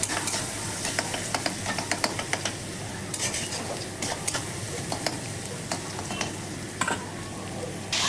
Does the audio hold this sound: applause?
no